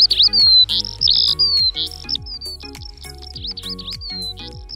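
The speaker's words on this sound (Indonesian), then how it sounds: "lomba kicau burung kayak gini emang dikenal sebagai ajang unjuk gigi para penghobi burung" Caged songbirds at an Indonesian bird singing contest pour out loud, continuous high trills and rapid chirps, several birds overlapping in dense, repeating phrases close by, with no talking.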